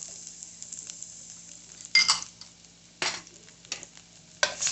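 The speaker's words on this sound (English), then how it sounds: "So, add a little oil to the pan." Fresh garlic sizzles steadily in hot oil in a pan for a chicken marsala, with a few louder bursts of frying and stirring clatter breaking through a constant close hiss.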